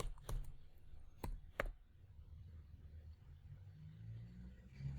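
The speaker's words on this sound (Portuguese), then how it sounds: "Eu vou digitar a senha." A few sparse, quiet clicks of keys on a computer keyboard as a password is entered, spaced irregularly over a hushed background with no talk.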